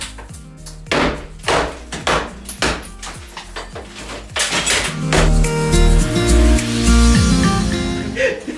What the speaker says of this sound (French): il a fallu un coup de marteau de plus